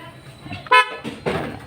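A single short car horn toot rings out clearly, followed by muffled rustling and handling noise nearby.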